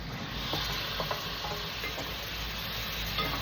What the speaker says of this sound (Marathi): आता आपण त्याच्यामध्ये कोलंबी ॲड करूया, जी मॅरिनेट केली होती.